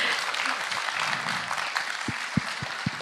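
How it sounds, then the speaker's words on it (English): Brief applause from a French fan convention audience for actress Émilie de Ravin, a dense wash of clapping with a few distinct close claps near the end. "On peut l'applaudir."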